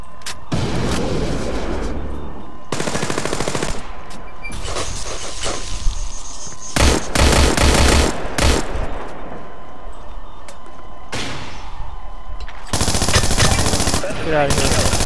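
Gunfire in a video game battle comes in loud, close automatic bursts separated by short gaps, with heavier blasts mixed in; no talking.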